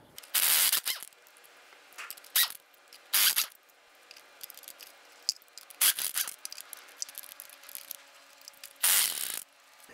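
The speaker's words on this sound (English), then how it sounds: "Using our 7/8 socket, we're going to go ahead and loosen and remove our lug nuts." Lug nuts loosened and removed with a 7/8 socket on a 2002-2008 Dodge Ram 1500 front wheel: several loud close bursts of ratcheting and clicking separated by quieter metallic handling.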